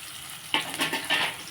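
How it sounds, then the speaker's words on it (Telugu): Tomatoes hit hot tempered oil for tomato upma, a sudden close burst of sizzle that flares, dips and flares again over a second and a half. "ఇందులో టమాటాలు వేస్తాను నేను"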